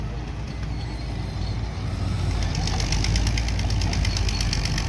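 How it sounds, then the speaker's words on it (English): Antique stationary engine at a flywheel engine show labouring under load, a steady heavy chugging rumble that deepens and grows slightly louder partway through, close by with no talk. "You hear it pull that engine down."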